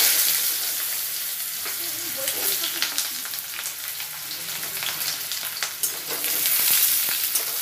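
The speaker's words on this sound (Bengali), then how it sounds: "এবার আমি আলুগুলোকেও একটু ভেজে নেব।" Potatoes fry in a pan, crackling and sizzling up close with scattered sharp pops, a constant spitting hiss beneath occasional stirring.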